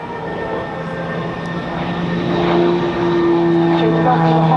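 Aerobatic airplane at a naval air station airshow, a loud sustained engine drone with a rising tone as the aircraft climbs, heard from a distance with an announcer talking over it.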